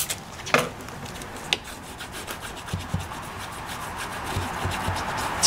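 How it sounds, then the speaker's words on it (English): A clay bar rubbing across a contaminated tail light on a Foxbody Mustang, making a steady close-up gritty scrubbing like sandpaper, with a few sharper scrapes and no talking. "Funny using this clay bar, because sometimes it's just like sandpaper."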